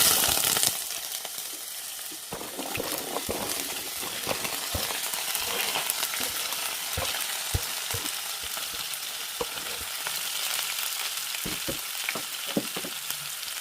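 Green plantain and curry leaves fry in a pan after mustard seeds, making a steady close sizzle with scattered sharp crackles and pops throughout. No one talks.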